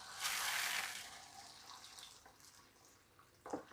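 Hot water pours and splashes into a jar of mixed pickles, a soft gush at first that tapers into faint trickles, followed by a short splash near the end.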